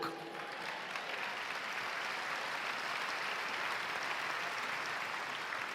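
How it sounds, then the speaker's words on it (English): Conference crowd applause at a CUFI Summit plenary session, a broad, steady wash of clapping from a large audience, heard at a distance and continuous from start to finish. "A little less enthusiasm on that applause"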